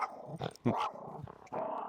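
Dog barking and growling on a sandy beach, a few short, close, fairly quiet barks separated by low growls.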